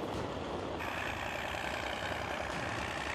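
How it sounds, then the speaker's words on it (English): A Ural screw rotor vehicle clears meter-thick snow, giving a steady, loud mechanical roar with broadband rushing noise throughout and no speech. "it is impressive that the Ural screw rotor is blowing away the meter-thick snow, opening up a wide road"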